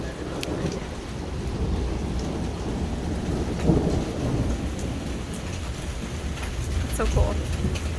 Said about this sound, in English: we want to just share with you guys our first thunderstorm here in Italy